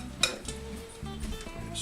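Utensil scraping vegan chocolate chip blondie batter into a bowl: soft clinks and scrapes of metal against the dish, close and quiet, with a sharper knock near the start.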